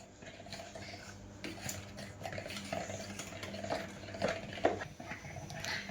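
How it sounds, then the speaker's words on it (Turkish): Cookie dough being stirred with melted margarine in a bowl, a steady soft scraping and tapping of a spoon against the bowl, fairly quiet and close, with a few sharper knocks near the end. "Onu da birazcık karıştıralım"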